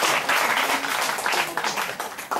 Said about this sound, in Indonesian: tepuklah tangan kepada belia-belia